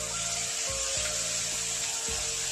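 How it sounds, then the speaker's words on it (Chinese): Spareribs stir-fry in a hot wok with a constant loud sizzle close by, broken by a few dull scrapes and thumps as the meat is tossed. "然后把排骨在锅中炒一下，炒香。"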